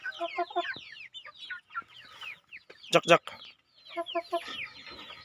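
Broiler chickens cluck in short, close bursts with a louder squawk in the middle, and a brief spoken word sits among them.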